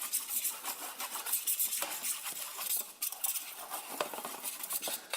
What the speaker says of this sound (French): On va mélanger un petit peu ça.